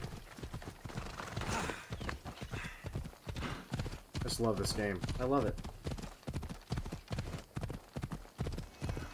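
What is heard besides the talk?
horse hooves galloping, video game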